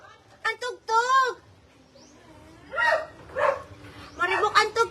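A dog barks in short bursts indoors, several sharp barks and yips spaced apart, with a voice speaking between them and loud music in the background.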